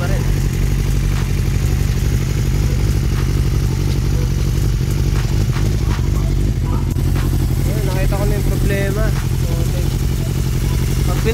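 A Suzuki Bandit 400 motorcycle engine runs steadily at idle with a close, low, throbbing drone and light mechanical clatter, while a faint voice comes through near the end.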